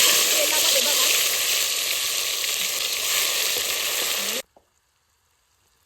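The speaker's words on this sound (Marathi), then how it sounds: "मस्त तेल कडकडीत होऊन दिलं आणि त्याच्यामध्ये कोथंबीर आलं आणि लसूण याची पेस्ट टाकली छान अशी मस्त परतून घेते" A paste of coriander, ginger and garlic sizzles hard in very hot oil, a loud steady frying hiss lasting about four seconds before it cuts off to near silence.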